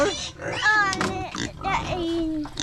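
A pet pig at home grunts and oinks in short bursts, close by, mixed with children's voices talking over it.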